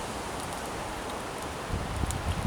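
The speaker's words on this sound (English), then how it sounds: "It's a particularly windy day here, so things are blowing out." Wind blowing through the woods on a blustery day during a bushcraft fire-lighting session: steady broadband rushing and leaf rustle, with a louder low gust buffeting the microphone near the end.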